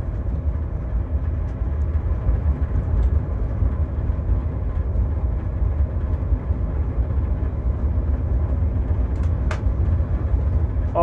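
From the cab of an empty ST44 "Gagarin" diesel locomotive built by Kolomna, a loud, continuous engine rumble with track noise continues throughout, with a short sharp squeal near the end.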